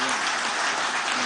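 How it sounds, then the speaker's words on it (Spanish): A meeting audience bursts into brief, dense applause, a steady burst of many hands clapping together with no voices standing out. "Pido un aplauso para este aguerrido patriota."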